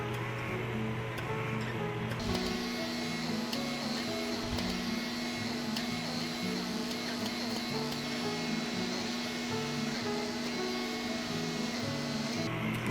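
A microdermabrasion diamond kit's suction device runs with a continuous motorized hum and whine, steady and close for the whole stretch, with no talking over it.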